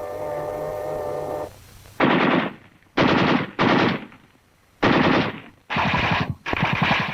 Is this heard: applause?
no